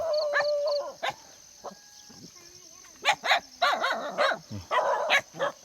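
Several dogs bark on a rural farm in Laos, sharp yips and barks in irregular bursts at close to moderate range, mixed with people talking.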